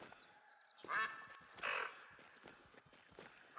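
Wigeon ducks in theHunter: Call of the Wild on the Revontuli Coast give two faint, short calls in a quiet outdoor setting.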